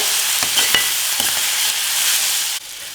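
Onions salted and frying in plenty of oil in a pan, a loud, steady hiss and crackle throughout, with a few soft knocks of a stirring spoon, dropping off abruptly near the end.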